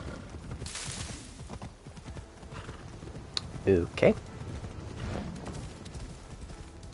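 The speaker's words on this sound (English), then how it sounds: "I'm going to allow the horse to follow the path." Horse hooves clopping along in Assassin's Creed, with a brief whinny midway and steady ambient noise; a single short spoken word is heard.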